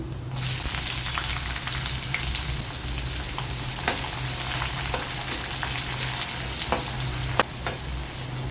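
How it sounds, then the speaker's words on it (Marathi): Onion frying in oil with peanuts for kande pohe, a steady close sizzle with occasional sharp pops and scraping clicks of stirring, no voices. "यामध्ये आता आपण कांदा घालून घेऊ"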